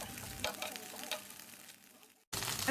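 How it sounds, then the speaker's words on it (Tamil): Oregano leaves sauté in a dry pan with a soft, crackling sizzle and a few stirring scrapes, fading briefly before a louder burst at the end. "இலைகளை தண்ணீர் இல்லாமல் பேனில் சேர்த்துட்டு இதே போல வதக்கிடுங்க"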